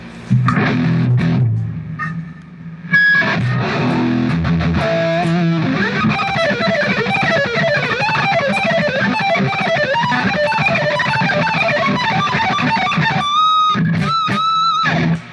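A heavily distorted electric guitar plays a fast lick, with a chunky chord at the start and bright sustained notes near the end.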